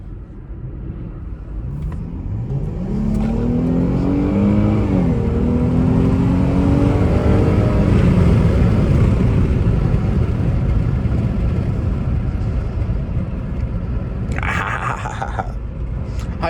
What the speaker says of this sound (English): How y'all like how that V6 sound, man?